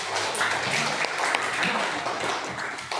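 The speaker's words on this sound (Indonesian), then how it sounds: "Ya, tepuk tangan untuk tiga-tiganya." Classroom applause for three students: a dense, steady patter of many hands clapping together at close range, sustained evenly for about three seconds with no pause.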